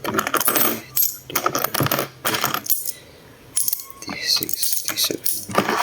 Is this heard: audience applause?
no